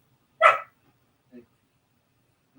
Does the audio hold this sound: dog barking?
yes